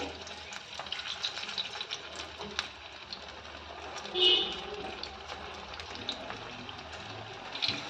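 Chili bajji fritters frying in hot oil make a gentle, continuous bubbling sizzle, faint and close, while a person talks over it.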